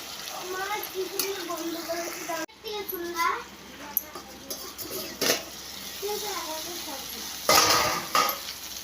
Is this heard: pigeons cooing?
no